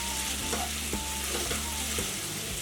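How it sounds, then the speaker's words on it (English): About a pound of Italian sausage browns in a pan for Zuppa Toscana, broken into pieces as it cooks, with a steady loud sizzle and occasional stirring scrapes throughout, no voices. "And this is about a pound of Italian sausage. I'm browning at the same time."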